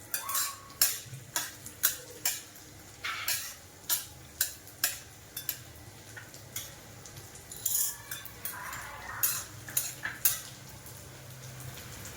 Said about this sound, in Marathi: याच्यात आता डिंक तळून घ्यायचं आहे थोडा थोडा करून डिंक तळूया